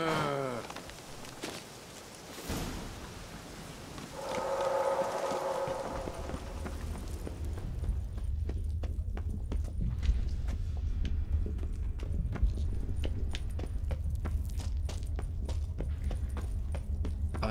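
Horse hooves clip-clop in The Witcher 3 as the horse is urged toward a cave entrance, a continuous walking rhythm of close, steady footfalls; a voice speaks briefly near the start.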